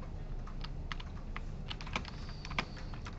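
Keys clack steadily on a computer keyboard in a lecture classroom, a run of close, irregular taps over a low room hum.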